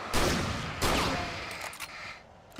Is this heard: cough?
no